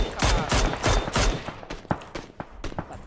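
Gunshots in an online tournament shooter game, a rapid string of sharp cracks and bursts, loudest at the start and thinning into scattered shots.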